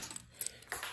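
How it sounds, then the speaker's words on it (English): A bunch of keys jingling while someone hunts for the right one to open a fire alarm panel: brief, close metallic clinks and rattles over about a second, with no voices. "Now if I can get the right keys."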